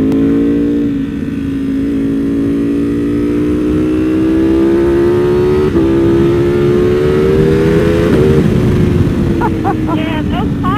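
Ducati Panigale V2 Bayliss sport motorcycle accelerating hard, a steady rising engine drone with crackling exhaust pops, loud and close throughout, with riders talking over it.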